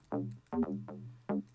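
A higher-pitched synth bass layer with no low frequencies plays short sustained notes in a few separate hits, bright and wide.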